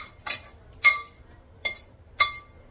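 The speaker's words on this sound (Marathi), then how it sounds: "झाकण ठेवते, थोडा वेळ असंच राहू देते" A metal lid is set on a kadhai holding sautéed green beans, giving four sharp metallic clinks with a brief ring, spaced unevenly over a few seconds in a quiet kitchen.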